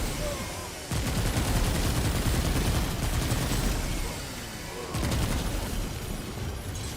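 Handgun shots in Remnant 2, dense and loud, in two sustained bursts of rapid fire separated by a brief lull, with a strong boom-like attack on each burst and no talking over it.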